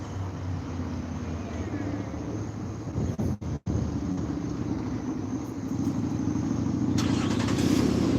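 A police car's engine idles and rumbles nearby as it backs out, a low steady hum with a brief dropout partway through and a slight rise near the end.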